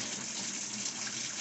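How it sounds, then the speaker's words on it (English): A Whirlpool coin-operated washer fills through its hot water valve, a steady rushing gush of water pouring in at close range, continuous and even with no talking. "it's going to run the hot water valve on for 10,"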